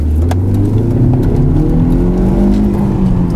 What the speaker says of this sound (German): Und jetzt hau das Ding in die Kurven mit Vollgas.